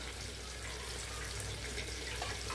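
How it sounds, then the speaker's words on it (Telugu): Water drains off soaked flattened rice (poha) into a strainer while upma is prepared, a faint, continuous trickling hiss with no voices. "ఇది కొంచెం నేను అలా నీళ్ళు అలా జారనిచ్చేసి నెట్లోకి తీసుకున్నాను."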